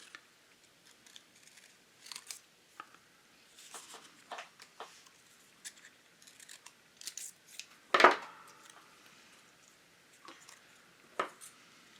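Scissors trim close around markings on a one-piece decal sheet for a Revell Ford GT model car, producing sparse, quiet, irregular snips and rustles with one sharper, louder cut partway through.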